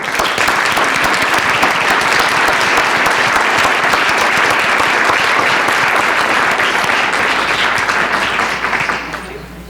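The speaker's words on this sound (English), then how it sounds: "please help me give those students a big round of applause" A meeting audience gives students a big round of applause, loud and dense clapping from many hands that holds steady for several seconds and then tapers off at the end.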